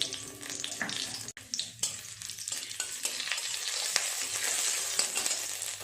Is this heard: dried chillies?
yes